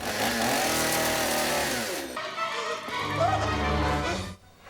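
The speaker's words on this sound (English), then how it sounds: "the minute that you break the integrity of the silicone arm with the chainsaw blade" A chainsaw roars nearby, its pitch dropping and surging as it cuts through a silicone prop arm, then cutting off abruptly.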